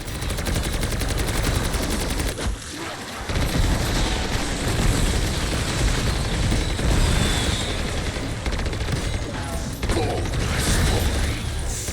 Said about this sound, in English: you're just going to be shooting into this hole